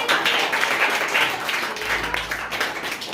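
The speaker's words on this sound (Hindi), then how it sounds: "यहाँ उपस्थित सभी माताओं का एक बार जोरदार ताली से स्वागत है।" Audience applause welcoming mothers at a school exam-results ceremony, a steady wash of many hands clapping at moderate loudness throughout, with no talk over it.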